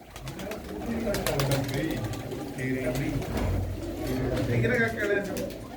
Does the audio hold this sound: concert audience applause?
no